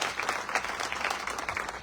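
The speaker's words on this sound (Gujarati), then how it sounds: "અને ફરીથી જોરદાર તાળીઓથી બતાવી" Audience applause at a political rally in Gondal, a dense, steady burst of many hands clapping together, loud and filling the whole moment.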